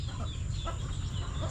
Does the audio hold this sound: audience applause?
no